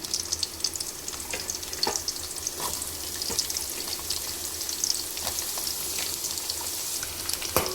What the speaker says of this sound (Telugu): ఆనియన్స్ అయితే మంచిగా వేపుకోవాలి, పచ్చిమిర్చి ఆనియన్స్ని